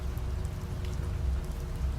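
Steady rain falls in an even, continuous hiss with a soft low rumble underneath, close and unbroken from start to finish.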